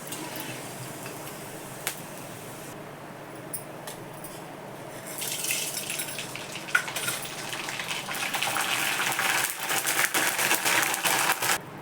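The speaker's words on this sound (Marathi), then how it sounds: "शेंगदाणे आणि साबुदाणा तळून झाला" Peanuts and sago fry in hot oil for homemade fasting chivda, a soft crackling hiss that swells and grows busier toward the end, punctuated by occasional sharp clicks and taps.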